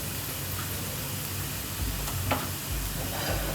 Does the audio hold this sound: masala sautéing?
yes